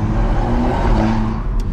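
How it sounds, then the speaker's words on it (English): A loud tuned 450 bhp BMW M140i engine roars steadily up close, its revving drone holding for a couple of seconds. "Loud car, boy."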